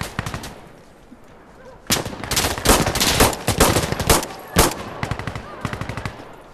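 Rapid bursts of automatic gunfire in the game Insurgency Sandstorm, loud and close, with a quieter stretch before dense repeated volleys and a final string of sharp single shots.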